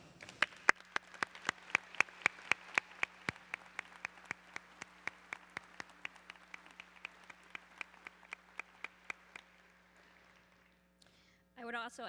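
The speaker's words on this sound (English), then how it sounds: "please rise for the appropriate round of applause" Graduation crowd at a high school ceremony applauding faculty, sharp distant claps in a sparse, rhythmic pattern that thins out toward the end, with a brief voice at the close.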